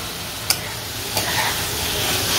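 Chicken masala cooks down in oil in a pot, a loud, steady sizzle close by with two brief utensil clicks near the start.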